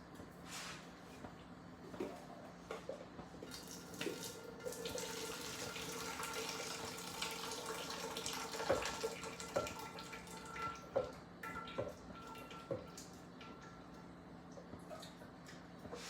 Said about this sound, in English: I'm gonna just dump out the water.